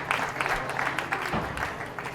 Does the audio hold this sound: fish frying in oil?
no